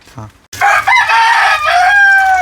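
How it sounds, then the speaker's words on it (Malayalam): A rooster crows loudly and close by in one long, drawn-out call, with some clucking and faint background noise around it. "കോഴികളുണ്ടാവും ആ സൗണ്ട് ഒക്കെ ഒന്ന് ക്ഷമിക്കുക എല്ലാവരും"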